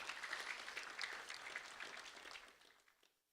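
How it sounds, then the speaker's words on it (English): A community audience at an awards ceremony gives a round of applause for volunteer helpers, steady crowd clapping that softens and dies away near the end, heard faintly from a distance. "a round of applause for them as well"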